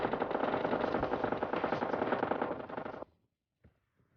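In PUBG Lite gameplay, a dense, loud burst of rapid automatic gunfire runs for about three seconds, then cuts off, followed by a faint distant shot in the quiet.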